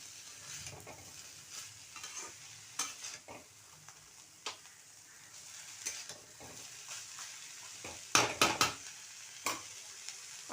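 Banana stem and green chilli frying in a pan, a soft continuous sizzle with occasional stirring scrapes and a few sharp spatula clacks near the end.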